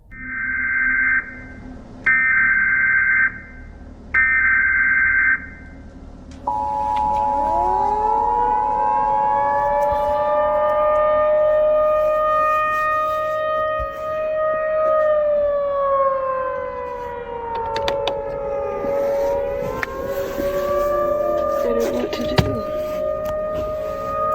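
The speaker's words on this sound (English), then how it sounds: "In the middle of the night, the sound of sirens ripped through the air." Three short electronic alert tones sound, then a civil defense tornado warning siren winds up and wails steadily at night, its pitch sweeping down and rising again, loud and sustained.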